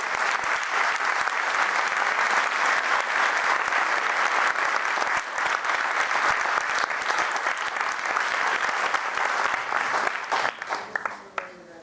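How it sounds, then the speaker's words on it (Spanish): A university audience in Mexicali breaks into sustained, dense applause for Margarita Zavala at a campaign event, many hands clapping loudly for about ten seconds before tapering off. "Recibamos con un fuerte aplauso a Margarita Zavala"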